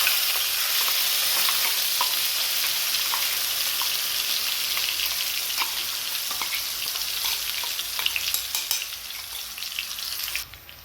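Ground masala with half a spoon of cumin roasts in a hot pan for soybean fry, giving a steady close sizzle with occasional stirring scrapes and no voices.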